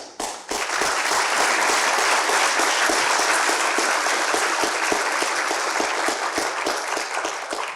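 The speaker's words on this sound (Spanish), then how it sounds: "por favor, otro aplauso a todos" Sustained applause from an audience at a panel session, a dense, steady wash of many hands clapping that starts abruptly and holds loud throughout without speech.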